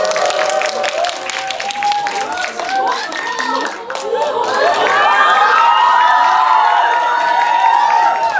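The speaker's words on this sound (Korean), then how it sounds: "뜨거운 박수와 함께 환영 부탁드리겠습니다." An audience at a stage greeting for the Korean series My Dearest Harry applauds and cheers the arriving actors, dense clapping with shrill shouts and screams, loud and close, while a voice carries on over the crowd.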